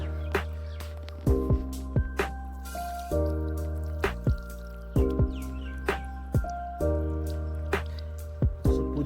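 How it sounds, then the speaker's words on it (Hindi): Water drips steadily onto freshly washed mint leaves in a village in Uttarakhand. The drops fall close and clear, landing about once a second in a gentle rhythm over a low background hum, with no one talking. "पुदीना धो लिया मैंने"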